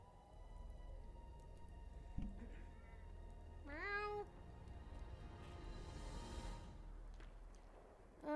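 A caged cat gives one clear, rising meow, with a faint earlier chirp, heard quietly over a low background hum.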